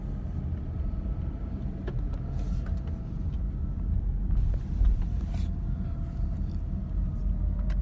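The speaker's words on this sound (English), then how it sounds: "I just like being in the car" Steady low rumble of a car interior while riding along, a continuous muffled road and engine drone with faint ticks and small swells, no talking.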